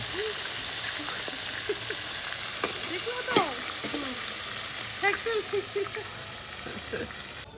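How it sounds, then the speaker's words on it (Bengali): Fresh river boal fish fry in hot oil in a village kitchen, a steady broadband sizzle running throughout with a few soft clinks and brief voice-like sounds mixed in. "সব মাছগুলো ভাজা হয়ে গেল।"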